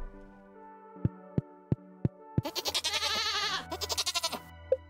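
A goat bleats in the farming game Stardew Valley, after a few sharp thumps. The call comes as a loud, wavering, stuttering bleat that breaks into pulses, then ends with a short blip.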